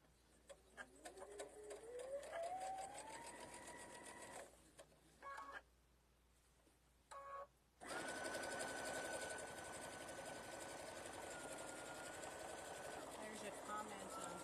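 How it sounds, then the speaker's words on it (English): Domestic sewing machine stitching quilt fabric for a pieced tulip wall hanging, a steady mechanical whir that rises in speed, stops briefly, then runs on evenly and close. Faint voice in the background. "I was about to start sewing right on that line"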